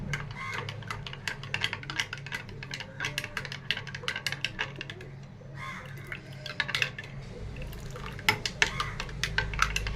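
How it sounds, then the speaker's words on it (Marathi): A spoon stirring aam panna made from raw mango concentrate and water in a glass, quick repeated clinks and swishes in an irregular rhythm, close and moderately loud. "छान असं मिक्स करून घ्यायचं आहे"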